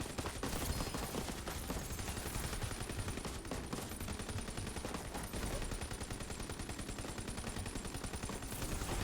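Sustained rapid weapon fire from the Redux Blizzard in a video game, a dense, loud continuous burst of automatic shots lasting the whole stretch with no pauses.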